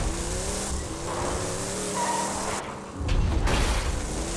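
A car driven in the video game Borderlands 2 roars with a continuous loud engine drone and tire squeal that swells toward the end, with no talking over it.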